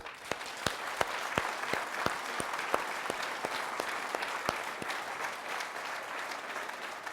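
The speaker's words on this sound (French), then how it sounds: "on va les applaudir" Audience at a New Year's wishes ceremony held by a town council, applauding steadily in a dense, even patter of clapping with a few sharp, prominent individual claps standing out throughout.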